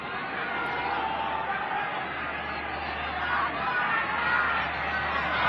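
Rugby league match crowd at a 1996 Western Suburbs versus Norths game, a broad murmuring roar of many voices calling out, heard from a distance as a steady wash of noise.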